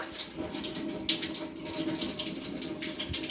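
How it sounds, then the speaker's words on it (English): Water pours steadily from a tap and drains freely down an unblocked sink, a continuous splashing rush that stays fairly soft and close throughout. "The water's not coming up and it's running nicely."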